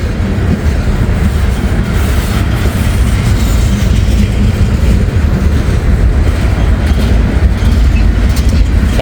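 A freight train hauling ethanol tank cars rolls past close by, a loud continuous rumble with rhythmic wheel clatter over rail joints throughout, no voices.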